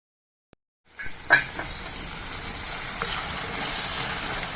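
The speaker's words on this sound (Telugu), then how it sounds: "ఉల్లిపాయలు అల్లం వెల్లుల్లి ఈ మూడు కూడా ఈ ఆయిల్లో వేసుకోవాలి" Onions, ginger and garlic dropped into hot oil in a clay kadai burst into a close, steady sizzle that rises after a brief silence and holds evenly, with a few clinks of a spoon.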